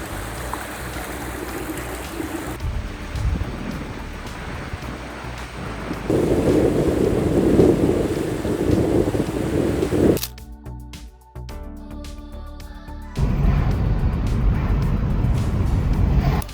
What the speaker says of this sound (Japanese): 風がすごい。